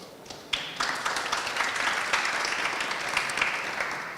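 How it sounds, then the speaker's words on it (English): A festival audience bursts into applause for the organisers, a sudden swell of many hands clapping steadily in a hall, moderately loud and sustained for several seconds. "I'd like to you guys to applaud them for their work for this festival here."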